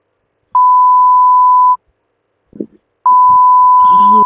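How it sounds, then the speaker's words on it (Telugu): Censor beep effects laid over speech in an online game commentary, two loud steady tonal beeps about a second each, with a brief muffled voice between them and more speech cut off under the second. "నేనే బీప్ సౌండ్లు పెట్టాను, 18+ కంటెంట్ అయిపోద్ది."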